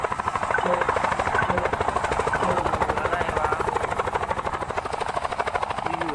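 A helicopter in a Roblox horror game, with a steady, fast rotor chop that thumps continuously and fairly loudly throughout, a constant buzzing drone with no pauses.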